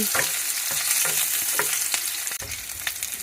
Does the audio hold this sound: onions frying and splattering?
yes